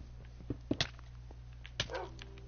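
A dog in the Minecraft video game gives a few short barks and yips, quiet and spread across the moment over a steady low game hum.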